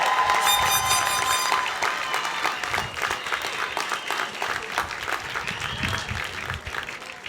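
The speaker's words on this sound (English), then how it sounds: "let us all congratulate these graduates with your applause" Audience applause for graduates at a 2022 commencement ceremony, a sustained crowd of clapping hands that stays fairly loud throughout and tapers slightly near the end, with no speech over it.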